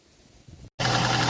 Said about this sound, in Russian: Так, вот я запустил двигатель.